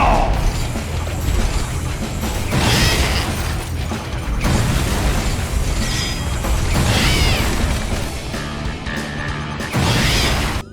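Screen-clearing fireball explosions and special moves in a wacky baseball video game, a string of loud bursts, booms and whooshing game effects over busy mechanical noise, coming in repeated waves.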